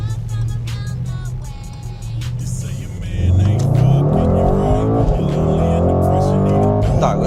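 A Mercedes GT63 in Sport Plus mode, running with a sensor that needs replacing, accelerates from a low engine hum into a louder, rising roar that holds close for the rest of the clip.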